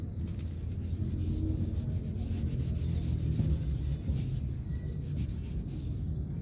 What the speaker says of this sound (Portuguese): quando eu tô lixando assim a massa, que eu tô quase finalizando o lixamento